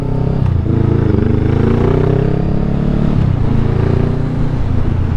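A Honda Rebel 500 motorcycle rides through traffic with a loud, steady engine drone close by, pitch shifting slightly as it filters between vehicles, with no talking.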